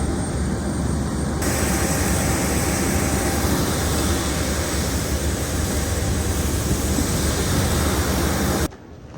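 Loud, steady airplane cabin roar on a full flight from Warsaw to Wrocław, engine and air noise constant throughout before cutting out abruptly at the end, no voices.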